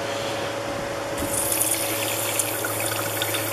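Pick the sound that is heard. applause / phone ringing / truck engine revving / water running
water running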